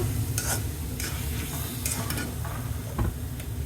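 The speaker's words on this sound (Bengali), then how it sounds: "এখন আমি নামানোর আগে একটু ঘি দিয়ে দিব" Ghee added to carrot halwa in a pan sizzles steadily while a spoon scrapes and stirs in a series of sharp, close strokes against the pan.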